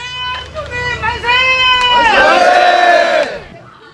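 A large crowd at a March 1st independence reenactment in Jochiwon, Jeju, lets out a loud, sustained collective shout with a leading voice before it, close and swelling to a peak before fading.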